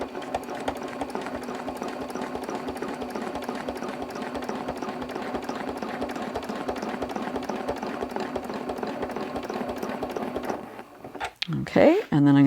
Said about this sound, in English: now we're going to start moving along and doing some of this ruler straight line stitching